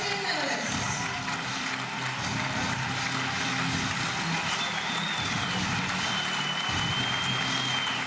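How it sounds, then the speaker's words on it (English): A crowd of badminton fans applauds the medalists at the podium of the 2013 YONEX Denmark Open men's singles final. Their clapping fills a large arena as one dense, sustained roar for the whole stretch, with a faint voice underneath. "the fans here still on their feet applauding both men as they make their way to the podium"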